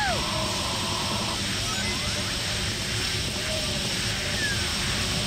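Jets flying in the video game Sonic Adventure DX, a loud, continuous roaring engine wash with faint sweeping whooshes across the whole stretch.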